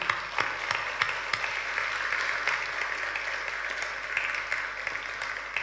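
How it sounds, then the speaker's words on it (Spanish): Church congregation applauding steadily, a dense wash of many hands clapping throughout with a few sharper individual claps standing out, no talk over it. "Le damos un aplauso a Paula y Guillermina."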